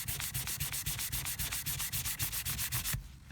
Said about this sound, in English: I'm going to use the same sandpaper,